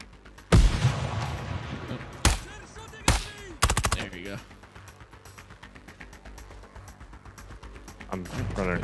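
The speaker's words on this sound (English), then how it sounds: "Right, let me just grenade him." Video game firefight with a grenade blast and bursts of gunfire: several sharp, loud shots and a booming explosion in quick succession, followed by ringing reverberation and quieter shots as players talk over the action.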